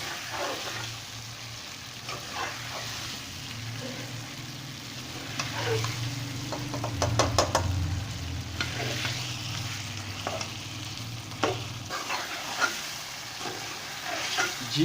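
Potatoes roasting in a pan, with a steady low sizzle of hot oil and occasional scraping stirs and clinks of a spoon, fairly close and moderate in level.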